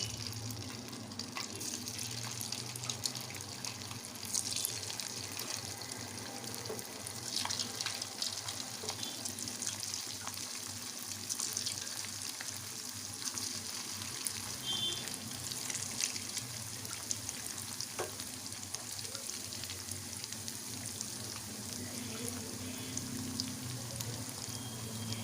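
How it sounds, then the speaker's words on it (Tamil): Marinated chicken pieces for chicken manchurian deep-fry in hot oil, a soft, continuous sizzle and bubbling with faint stirring noises, steady and low throughout, no talking. "இப்போது மேகினேட் பண்ணி வச்சுருக்கிற சிக்கனை ஒன்று ஒன்றா எடுத்து எண்ணெயில் போட்டு பொரிச்சுக்கலாம்."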